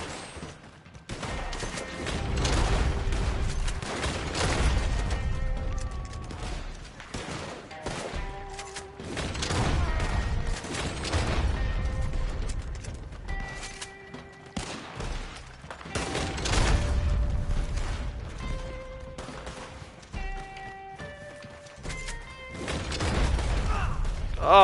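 Repeated bursts of gunfire in Red Dead Online, heavy volleys and thudding shots recurring every few seconds over a tense musical backdrop, loud and sustained throughout.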